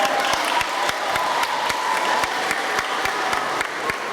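At a Children's Day performance, an audience applauds the performers with sustained, dense clapping, and a few sharp, rhythmic claps stand out in steady time.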